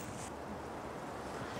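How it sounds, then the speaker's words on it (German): Strong wind buffets the microphone at a hang-glider launch site in the Bavarian Prealps, a brief, faint, roaring gust of noise. "Und deswegen haben wir jetzt hier am Startplatz auch die ganze Zeit zu viel Wind."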